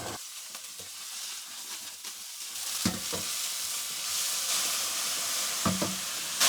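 Shredded potatoes stir-fried in a pan with oil and minced garlic, producing a steady, moderately loud sizzle that swells as the food goes in, broken by a few scraping stirs of a spatula.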